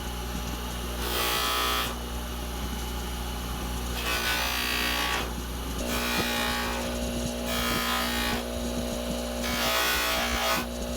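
A jewelry ring is buffed with Merard pink pre-polish compound on a motorized polishing wheel. A constant machine hum runs under repeated bursts of abrasive rubbing, each lasting about a second, at fairly close range.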